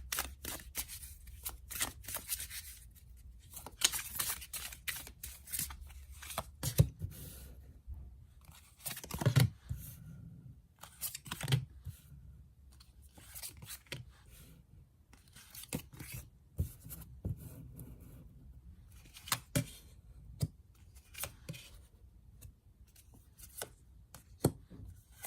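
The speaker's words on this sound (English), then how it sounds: "let's shuffle some cards" Soft, intermittent shuffling of tarot cards with scattered taps and slides, quiet and close, in irregular bursts.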